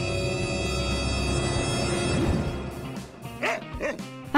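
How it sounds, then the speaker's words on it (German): A cartoon dog barks and yips in quick repeated bursts toward the end, over a busy cartoon music bed with some voice-like sounds. "Was? Ein Hund?"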